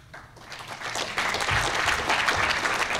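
Audience applause breaking out for coaches standing at a Hall of Fame ceremony, starting thin and swelling into steady, dense clapping from a large crowd that fills the room.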